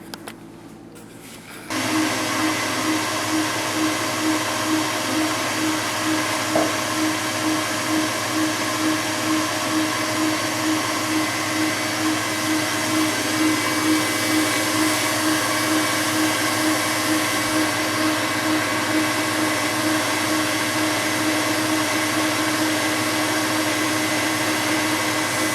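An electric mixer whisking cream into homemade butter starts with a click and then runs steadily for a long stretch, a loud continuous motor whir with no talk.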